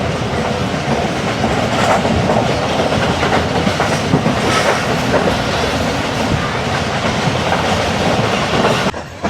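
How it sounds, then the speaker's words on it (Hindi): The Millat Express rolls out of a station in Sindh, a loud, steady rumble and clatter of wheels on rail that fills the whole stretch before cutting off at the end. "ट्रेन हमारी निकल पड़ी मेहरापुर रेलवे स्टेशन से"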